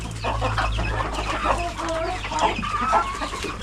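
Several chickens cluck and chatter nearby in a steady stream of short calls, with a low background hum.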